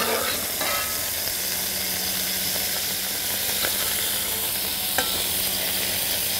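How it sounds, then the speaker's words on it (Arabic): Boiled meat frying in hot oil in a pan, giving a steady close sizzle with a few soft clicks and stirring sounds, no talking. "وهاخد اللحمة اللي سلقناها واحطها في الزيت علشان تتحمر"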